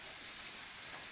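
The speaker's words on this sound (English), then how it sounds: "We're going to throw the meatballs in now. The pan's pretty on a high heat." Meatballs sizzle in a frying pan over high heat, a constant bright hiss with crackling spatter, steady and close, with no other sounds or voices.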